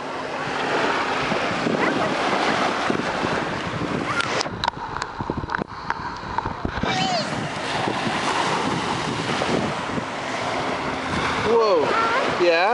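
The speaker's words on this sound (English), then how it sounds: "The waves are coming right up to my feet." Ocean surf breaks on a sandy beach at Saquish Beach, Massachusetts, a loud continuous rushing wash with heavy wind buffeting the microphone, easing briefly midway before building again, while people talk nearby.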